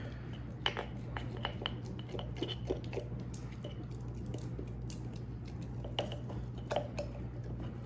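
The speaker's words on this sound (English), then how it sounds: "use whatever you have, a little spatula, plastic spoon, a little stir thingy, and stir it up" Sourdough starter being stirred with a small spatula in a kitchen, giving soft wet squishing and occasional light taps against the container, close and quiet over a steady low hum.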